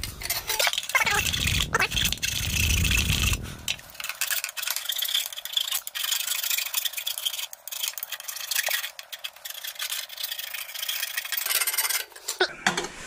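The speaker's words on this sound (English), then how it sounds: "We need to grab a file, clean up all the burrs." A metal file rasps steadily across a coilover sleeve to clean off burrs, a continuous close scraping with small clinks and a brief low rumble near the start.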